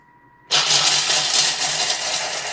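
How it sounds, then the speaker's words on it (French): A kitchen mixer cuts in abruptly after a near-silent half second and grinds whole hazelnuts into powder at speed 7, a loud, dense whirring roar that continues steadily to the end. "mettre ces noisettes à l'intérieur et on y va en vitesse 7"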